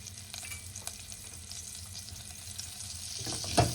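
About 30 grams of butter melts in a pan while cooking a long-standing restaurant recipe, giving a steady soft sizzle and crackle with light stirring, then a louder burst of frying near the end.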